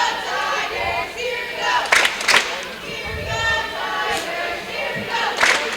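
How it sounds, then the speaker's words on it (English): A basketball crowd stands and roars in the Don Barnhart Gymnasium during a close White River Lady Tigers vs Gregory Lady Gorillas game, a steady loud cheer with sharp claps and thumps surging over it, voices mixed throughout. "Crowd is on their feet here in the Don Barnhart Gymnasium."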